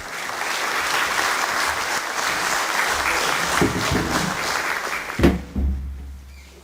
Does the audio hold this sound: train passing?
no